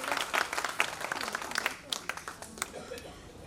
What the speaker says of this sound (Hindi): जोरदार तालियां एक बार और सभी की